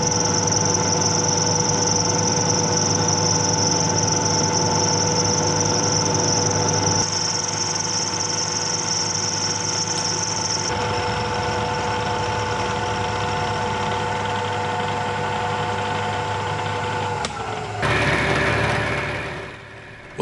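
Milling machine cutting steel with a small carbide end mill, a steady high whine and motor drone with a pitch shift partway through, then the machine spins down near the end; no talking.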